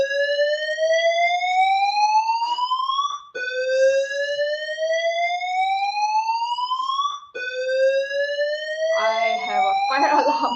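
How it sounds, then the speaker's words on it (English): A building fire alarm sounds during a keynote talk at a research software conference, loud and close, with three long rising electronic sweeps that each restart abruptly, and brief voices near the end. "I have a fire alarm here."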